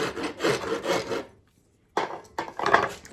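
A rasp files along the edges of a wooden guitar body in rough, scraping strokes, close and loud. Several back-and-forth strokes are followed by a short pause, then a few more strokes.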